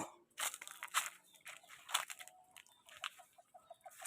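Chickens pecking at fallen mangoes: soft crunchy bites and scattered clucks, with a run of quick, evenly spaced clucks near the end, faint and close with no talking.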